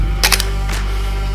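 A film camera's shutter fires with two quick, crisp mechanical clicks followed by a softer third snap, close by and over a steady low background hum, outdoors in Banff, Alberta.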